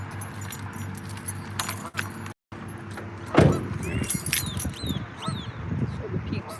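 A set of keys jangling close up in an outdoor park, with brief metallic rattles over light background noise, under a person talking.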